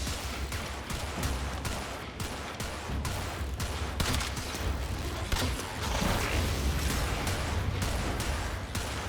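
Rapid, continuous gunfire from a Warframe battle against a Volt Spectre, dense bursts of shots and impacts layered over a low rumble, loud and sustained throughout with no pauses.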